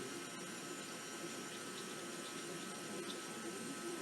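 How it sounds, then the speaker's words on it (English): Liquid foam poured slowly into a stand mixer bowl, giving a faint, steady wash of pouring and splashing that runs evenly throughout with no talk over it. "slowly pour that into the stand mixer."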